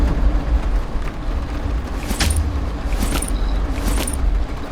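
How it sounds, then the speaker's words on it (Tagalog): Car keys jangling in The Escape Together game, several short metallic clinks spaced about a second apart over a steady low engine-like rumble. "Ay, susi ng ano to, sasakyan."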